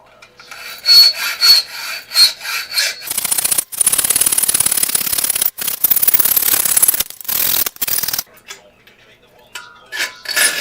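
A plastic projector lamp cover clamped in a vise is cut and filed, giving close, rhythmic scraping and rasping strokes broken by brief pauses, with sharper ticking scrapes toward the end.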